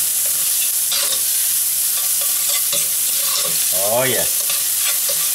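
Shallot and garlic sizzle steadily in rendered pancetta fat and olive oil in a pan, with a constant loud frying hiss, some scraping stirring, and a brief spoken remark partway through.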